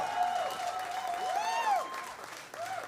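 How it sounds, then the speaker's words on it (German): A crowd at the final of a regional band contest applauds continuously, with shrill rising and falling whistles cutting through the steady clapping. "nochmal hier euer Applaus"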